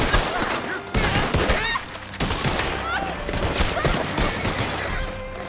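Gunfire rattles loud and fast in Red Dead Online, firing in repeated volleys. Other game sounds and some voices run underneath.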